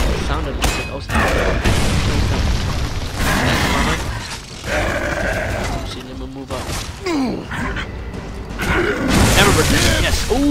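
Bolt-type pistol shots and booming impacts in Gears of War 3, loud bursts scattered through the game's clanking, crashing action while someone talks over much of it.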